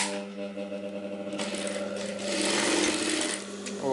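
A sewing machine stitches two strips of different-coloured fabric together for a garment sleeve, its steady rapid needle chatter running close and continuous, growing slightly louder midway.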